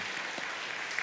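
A church congregation at a Sunday service gives a short round of applause to welcome a bride and groom, a brief, moderate patter of clapping.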